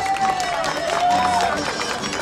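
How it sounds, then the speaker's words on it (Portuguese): Crowd at a pet parade festival clapping and cheering for a dog, a continuous mass of applause and chatter with voices talking over it. "Palmas pro Dante, gente"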